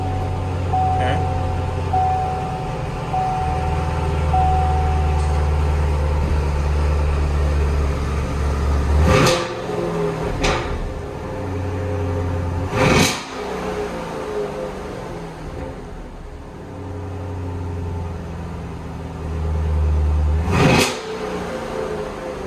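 A Harley-Davidson Road King motorcycle bought from a salvage auction makes a cold start: a close, low engine rumble that repeatedly cuts out and catches again, with several sharp mechanical clicks and knocks.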